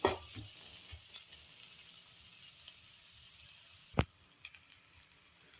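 Onions sautéing in a pan for spicy Maggi noodles, a faint steady sizzle with soft stirring knocks, a sharp clatter partway through, and lighter frying afterward.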